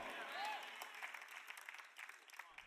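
A church congregation applauding during a sermon: a steady wash of many hands clapping together, fairly distant and even, fading slightly toward the end.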